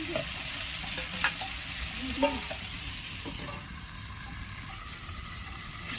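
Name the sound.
potatoes frying and being stirred in a pan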